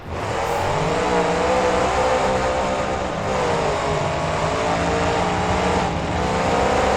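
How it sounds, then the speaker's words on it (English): Monster trucks race in the BeamNG video game, their engines giving a loud, continuous roar that stays strong throughout with small dips, and no voices over it. "Those trucks roaring out of Thunder Alley, entering the turn here."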